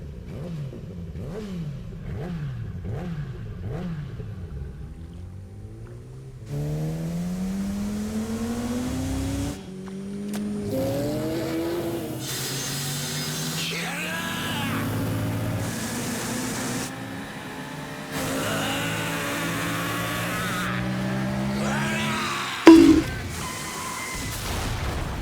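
A motorcycle engine in the Yakuza video game revs and accelerates through repeated rising pitch sweeps, steady and fairly close, with a brief thump near the end and no talk.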